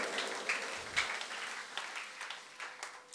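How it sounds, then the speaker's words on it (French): A church congregation applauding, a steady patter of many hands clapping at moderate distance, fairly faint. "Acclamons très fort pour le Seigneur."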